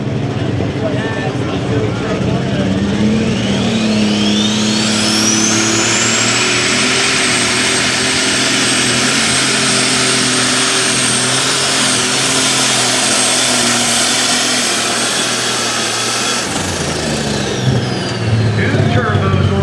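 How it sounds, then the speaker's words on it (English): A twin-turbo, alcohol-powered pulling tractor roars at full power, with turbo whine sweeping upward and then holding a loud, steady scream before cutting off near the end, with crowd and announcer talk underneath. "Two turbos on that alcohol-powered tractor going way out there."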